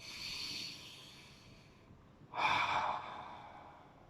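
A single deep inhaled breath, soft and close, rising briefly halfway through a quiet stretch of room tone.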